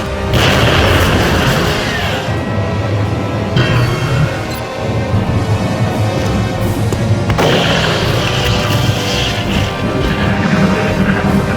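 A frag grenade detonating in a military video game: loud, rumbling booms and a dense crashing wash of battle noise that swells in a few heavy bursts and fills the whole stretch without speech.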